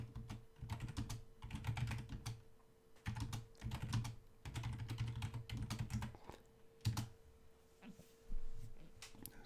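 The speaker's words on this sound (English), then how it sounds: "I'll just type it out here." Typing on a computer keyboard: soft, steady runs of keystrokes in quick clusters with short pauses, fairly quiet, over a faint constant hum.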